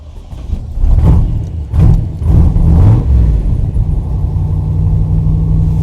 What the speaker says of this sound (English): We'll do a cold start here, turn the key on, give it a pump, crank it over.